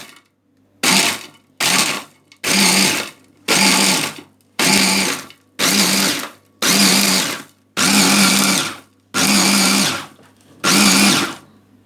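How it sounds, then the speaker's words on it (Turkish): A blender whirs in ten short bursts, each about half a second long, separated by brief pauses, blending a lahmacun topping mixture. The pulses are loud and close, with no talking. "Evet karışımımızı şu anda blender'a veriyoruz."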